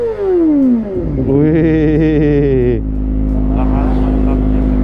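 A four-cylinder motorcycle engine fires up, then revs sharply and holds high for a moment before dropping back to a steady, loud idle, close by; someone gives a brief exclamation.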